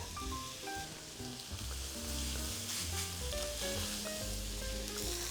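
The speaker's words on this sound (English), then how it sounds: "we're gonna put them in the skillet, and we're gonna give these a couple minutes on each side" Beef patties sizzle in a skillet, a steady close frying crackle and hiss that runs continuously throughout.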